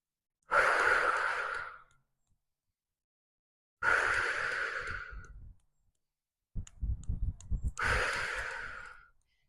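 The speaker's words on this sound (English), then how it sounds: "continue with the deep breaths" Three slow, deep breaths, each a long airy exhale lasting about a second and a half, are separated by near silence and heard close up, with a faint click before the last one.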